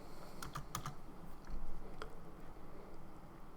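Scattered clicks of keys being pressed on a computer keyboard, a few quick taps then single presses against a steady room hum, fairly faint and close.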